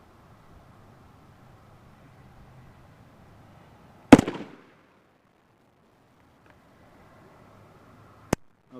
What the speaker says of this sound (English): Let me just fire this last round, y'all,